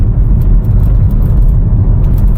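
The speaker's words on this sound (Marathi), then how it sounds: "आणि जसं मी ॲक्सिलेटर पेडल प्रेस करतोय" A second-generation MG Hector accelerating in third gear with turbo boost, a loud, close, steady low engine roar mixed with road rumble from inside the cabin.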